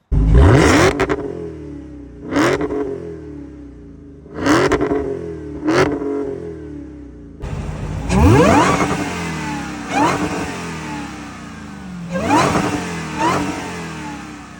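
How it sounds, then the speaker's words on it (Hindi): A 2023 Dodge Charger SRT Hellcat Redeye is revved hard several times with its supercharger whining, each loud blip climbing and falling back, then a longer run of rising revs that is loud and close with no talk. "इसमें आपको ऑडियो सिस्टम की ज़रूरत नहीं है, द सुपर चार्ज स्क्रीमिंग।"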